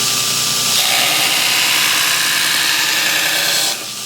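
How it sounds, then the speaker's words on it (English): Steel knife blade being ground on the ricasso line, a steady loud continuous grinding hiss and motor whine running unbroken for about four seconds before easing off at the end. "The knife grinds much smoother for me on this side than the other side."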